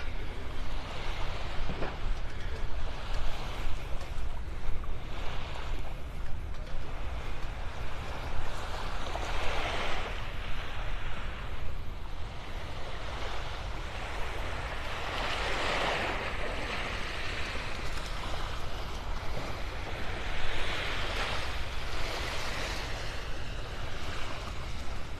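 Steady surf rolls onto Vanderbilt Beach in North Naples, Florida, a continuous wash of breaking waves with gentle swells under a hazy sky, with no voices.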